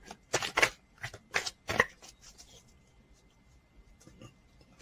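A deck of Lenormand cards is cut and shuffled, several quick crisp riffles in close succession followed by softer card handling and light taps.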